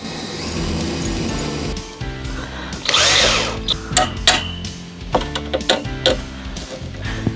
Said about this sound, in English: so when I drill through, the drill doesn't hit the concrete